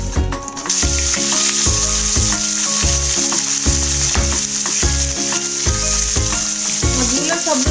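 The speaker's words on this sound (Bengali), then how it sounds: "এগুলো ভালো করে মাখা হয়ে গেলে আমি এটাকে তেলে ভাজবো।" Fish pieces rubbed with turmeric sizzle loudly in hot oil, a dense, crackling, continuous fry close to the microphone, with rhythmic low bumps throughout and no voices.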